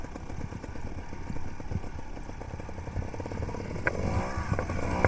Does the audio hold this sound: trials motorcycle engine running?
yes